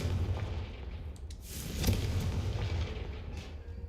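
Confringo blasting spell in Hogwarts Legacy, a rumbling explosion with a sharp burst near the middle and a rolling boom afterward, fairly faint and alone with no talking.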